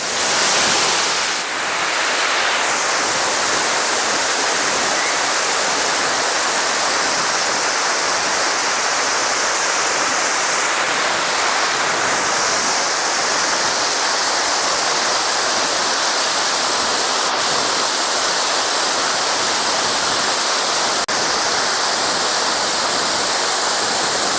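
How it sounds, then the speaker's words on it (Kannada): Hogenakkal waterfall on the Kaveri river, water crashing onto rocks in a loud, unbroken roar that holds steady throughout, close and powerful with no voices over it. "ಕಾವೇರಿ ನದಿಯ ನೀರು ರಭಸವಾಗಿ ಬಂಡೆಗಳ ಮೇಲೆ ಅಪ್ಪಳಿಸುವಂತಹ ಸಂದರ್ಭಕ್ಕೆ"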